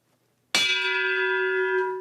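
A single church bell strikes once, loud and close, then rings on with a long, steady, humming decay and no voices.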